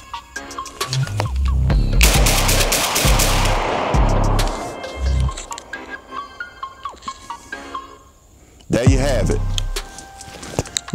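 A Benelli shotgun firing at an outdoor range: a loud blast followed by ringing echoes, a stretch of clatter and handling noise, then a second sharp shot with reverberation near the end.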